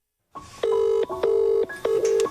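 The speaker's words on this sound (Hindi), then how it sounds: "देन जगुक जिमिन के पास कॉल करता है।" Phone dialing tones sound in a quick series of steady beeps with short gaps, close and clear, with no voices.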